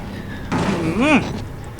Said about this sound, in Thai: ปิดประตูใส่หน้ามันน่ะ